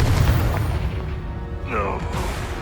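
A Confringo blasting spell explodes in Hogwarts Legacy, a loud deep boom with crackling rumble filling the moment, followed by a brief rising magical shimmer as it fades.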